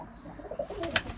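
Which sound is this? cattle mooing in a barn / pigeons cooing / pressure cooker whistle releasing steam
pigeons cooing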